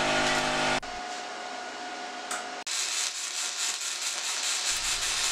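A cheap Vivor plasma cutter slices through steel plate with a harsh, loud hiss that starts, drops to a quieter hum, then restarts as a rough, broadband rush, all close up with no talking.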